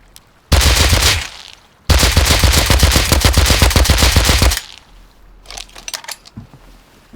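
Rapid bursts of gunfire as players shoot people in the survival game Rust, two loud sustained volleys of fast repeated shots followed by fainter scattered pops.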